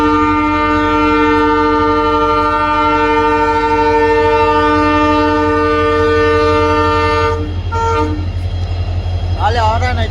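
An express train's horn sounds in long, steady blasts at a station, loud and sustained over the low rumble of the moving train, with a brief change near the end.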